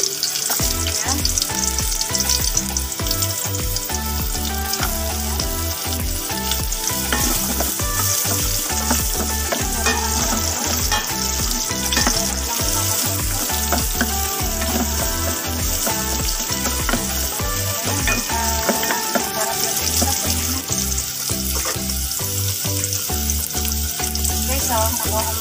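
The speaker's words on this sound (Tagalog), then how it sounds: "At magigisa na tayo. Lagyan natin yung bawang." Garlic sautés in a frying pan with a loud, dense, continuous crackle and hiss, close up and unbroken, with occasional utensil stirring beneath it.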